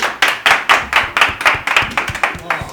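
Several members of the K-pop group WEi clap their hands together in a steady run of crisp, fairly loud claps lasting a few seconds, with a faint hint of voices in the background.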